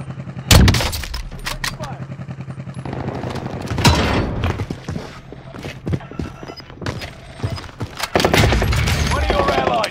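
Bursts of automatic gunfire in Warzone on Rebirth Island, loud close volleys and machine-gun rattles alternating with quieter gaps, with voice callouts mixed in among the shots.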